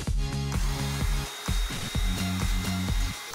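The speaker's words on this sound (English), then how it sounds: "With powerful suction, this vac makes quick work of the messes from every family member." A HART 20V cordless hand vacuum with a motorized brush roll runs with a loud, close motor whine that cuts out briefly and returns in short pulses, with no talking.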